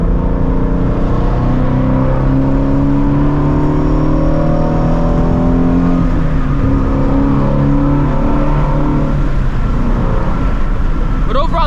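A 2016 Shelby GT350's engine drones loud and close from inside the car while driving, its pitch climbing and dropping through downshifts with a steady throaty rumble.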